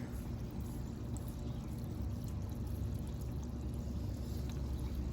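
Soft, steady water sounds at a small micro pond as algae is pulled out, a continuous faint splashing and trickling heard close by in a quiet early-morning setting.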